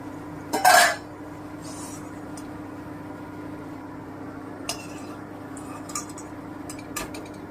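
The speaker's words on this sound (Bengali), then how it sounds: "এবার আমি উঠিয়ে রসে ফেলে দিচ্ছি" Fried bread gulab jamun lifted from the oil and dropped into sugar syrup: one short metallic clatter near the start, then a steady low kitchen hum with a few faint clicks.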